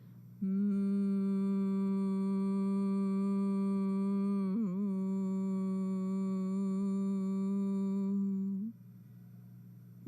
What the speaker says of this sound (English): breathe out with a humming sound